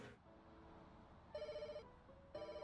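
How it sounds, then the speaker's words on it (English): Phone ringing in a pet hotel simulator game, two short bursts of a bright electronic ring heard faintly and alone over a low background hum. "Oh, my phone is ringing."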